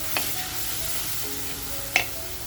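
Grated tomato and a little salt fry in a pan of Kolhapuri chicken masala, a constant crackling sizzle. Two brief clinks or taps cut through the steady frying, and no one speaks.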